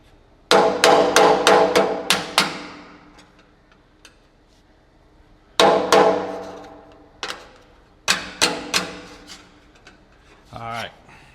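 Close, loud bursts of hammer strikes on old tank metal resting on a table, ringing metallic clangs in quick clusters with gaps between, followed by a brief voice at the end.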